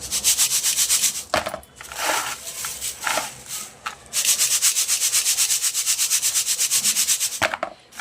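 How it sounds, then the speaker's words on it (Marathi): Flattened rice (poha) being sieved so the fine bits fall through, giving a steady, close, loud rubbing and shaking rasp with brief pauses and no talk. "पोहे असे चाळून ठेवायचे हे बघा बारीक बारीक सगळं पडतं"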